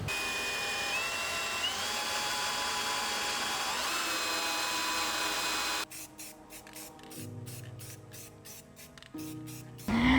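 A power drill bores holes into the steel frame of a Ford F250, a sustained whine that gives way to a rapid series of short stuttering bursts near the end.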